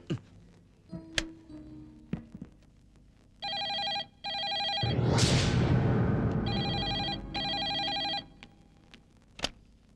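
Telephone rings in bursts of electronic trilling, two rounds before and after a loud rushing swell, with sharp clicks and knocks around them and no talking.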